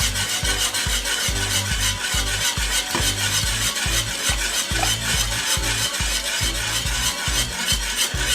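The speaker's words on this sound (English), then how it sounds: "So just keep whisking it like this and whisk it." A whisk beats thick Jamaican plantain porridge in a pot, giving a steady, rapid rhythmic scraping and stirring, loud and close throughout with no talk.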